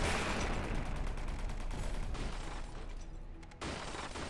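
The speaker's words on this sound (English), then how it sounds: "This is a 500mm cannon." Rapid heavy cannon fire from an oversized 500mm gun in the From The Depths game, a dense continuous barrage of booming shots that fades slightly before a sharp cutoff and resumes.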